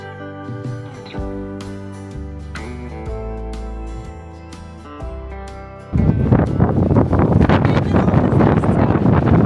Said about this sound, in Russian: Нас не слышно, нас уносит ветер лютый просто.